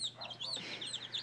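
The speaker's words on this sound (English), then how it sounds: "Gives moths to chickens and watch them" Chickens clucking and chirping near and fairly quiet in short irregular bursts while they are given moths to eat, with no talk.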